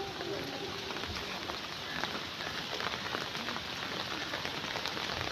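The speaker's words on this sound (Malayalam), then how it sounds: "മഴയാണ്" Steady rain patters down in a continuous broadband hiss with scattered drop impacts, fairly close, and faint voices murmur underneath.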